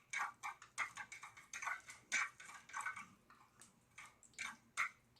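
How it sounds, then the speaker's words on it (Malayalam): Mustard seeds spluttering in hot coconut oil inside a clay pot, quiet irregular pops and sharp ticking crackles in short clusters, close by with soft gaps between bursts. "കടുക് പൊട്ടിക്കഴിയുമ്പോൾ"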